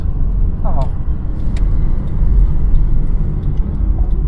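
A Peugeot 106 engine idles with a steady, low, even rumble heard from inside the car, with only a faint, brief voice early on.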